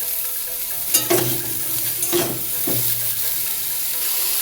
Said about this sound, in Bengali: পনির ভেজে তুলে রেখে ওই তেলেই ফুলকপিটা দিয়ে ভেজে নিচ্ছি।